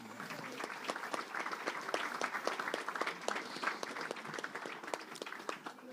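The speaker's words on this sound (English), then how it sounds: "Big round of applause for them boys." A round of applause breaks out at an Ireland versus Australia over-40s masters international event, dense steady clapping from a sizeable group that carries on throughout, with faint voices mixed in.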